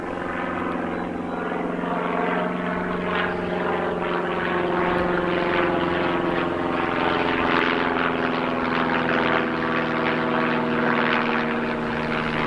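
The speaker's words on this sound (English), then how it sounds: "Do get planes going over, little biplanes from Biggin Hill Airport" A small propeller biplane out of Biggin Hill Airport drones overhead in the countryside. The engine holds a steady, moderately loud hum that swells slightly as it passes, with no voices.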